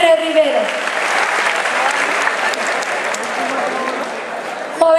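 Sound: crowd applause for the governor

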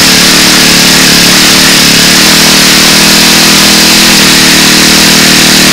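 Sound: model engine running at high RPM with tuned pipe

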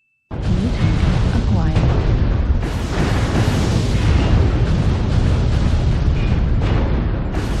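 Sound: incoming missile explosions in the video game Mechwarrior Online

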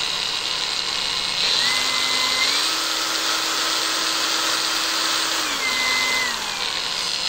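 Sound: APR AP22 Pro cordless battery grinder running

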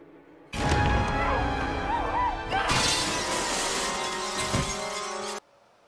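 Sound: shower glass shattering in a movie scene

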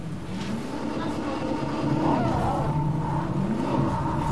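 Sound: car engine in Fortnite video game

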